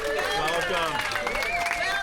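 Applause at the opening of the new Ohio State Wexner Medical Center university hospital, a crowd clapping steadily at moderate volume while a voice speaks over it.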